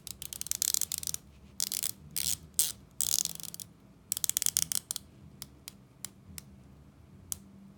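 Rolex Submariner 116610LN dive watch bezel turned by hand, giving bursts of crisp, close metallic ratcheting clicks, some rapid runs and some isolated single clicks with short pauses between.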